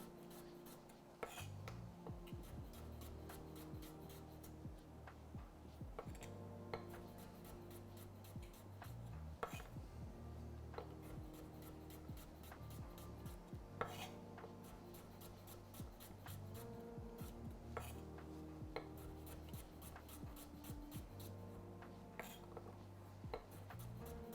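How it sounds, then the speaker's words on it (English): Knife chopping radish on a cutting board for coleslaw, a long run of quick, even taps and scrapes, close and steady with no talk. "Just keep chopping, chopping, chopping, chopping, chopping."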